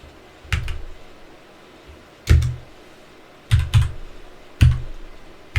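Someone types on a computer keyboard. A handful of distinct clicking keystrokes come in small clusters with pauses between them, close and clear in a quiet room.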